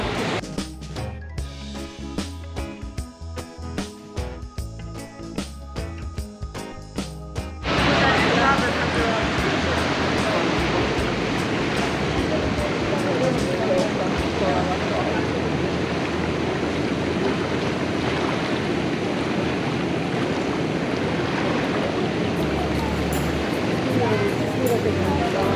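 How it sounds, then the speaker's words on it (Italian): A small waterfall on the canals of Rasiglia sends up a loud, steady rush of falling water that starts abruptly and continues unbroken close by, following a passage of music at the start. "Ed eccoci qui dal basso di questa cascatina, possiamo vedere benissimo l'acqua"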